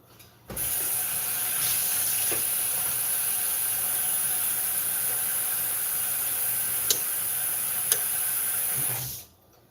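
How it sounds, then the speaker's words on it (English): Water heating to a boil in a pot on a stove for tea, a loud, constant rushing hiss that starts abruptly, holds evenly with a couple of small clicks, and cuts off. "Boiling water to make me some tea."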